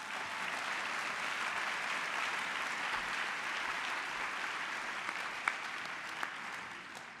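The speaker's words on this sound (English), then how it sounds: "Let's give them a round of applause" A convention audience gives a round of applause to arts agency staff, a broad, even wash of many hands clapping, somewhat distant and sustained throughout, with a couple of sharper claps standing out near the end.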